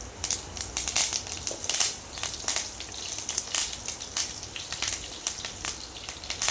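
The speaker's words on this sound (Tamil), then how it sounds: "இப்போ வந்து கருவேப்பிலை போட்டுக்கணும், எனக்கு தேவையானது." Curry leaves dropped into hot oil where mustard seeds have already popped, making a dense steady sizzle with many sharp crackling pops spread throughout for mango pickle tempering, close and fairly loud.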